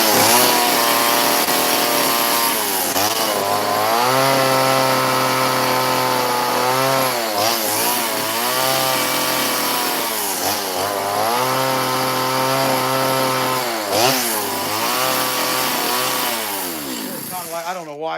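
A chainsaw rips through wood, its engine droning loud and close with repeated rising and falling revs as it bites into the cut, running continuously with brief dips between passes.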